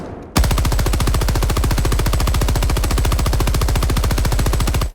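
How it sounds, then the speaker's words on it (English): The Stalwart machine gun in Helldivers 2 fires at its default 850 RPM in one unbroken burst of rapid, evenly spaced shots. The fire is loud and close and runs for about four and a half seconds after a brief quiet start. "Like the starter machine gun, the Stalwart has a variable rate of fire."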